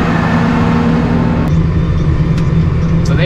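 Tractor engine driving across a North Dakota cattle ranch at feeding time, a loud, steady, close low rumble that runs throughout with no break.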